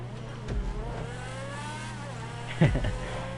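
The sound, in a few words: car racing and revving in the video game GTA V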